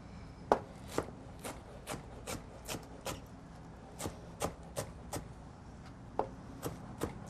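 A knife chopping food finely on a board for barbecue, about a dozen crisp, fairly regular chops close by with faint room sound between strikes and no talk.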